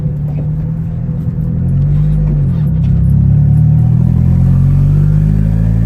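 A turbocharged 1993 Honda Civic is driven slowly around the block, its engine giving a steady low rumble that grows louder and fuller midway, with a faint clatter and no voices.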